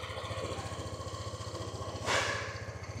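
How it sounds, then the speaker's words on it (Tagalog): An FKM Venture ADV 180 motorcycle engine idles with a quiet, even, rapid low chug, joined briefly by a short burst of hissing noise. "yan yung tunog ng makina niya"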